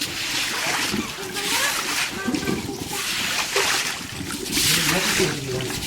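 Water being pushed with a broom or squeegee across a terrace floor during cleaning, making steady sloshing and splashing sweeps at close range, with a person talking throughout.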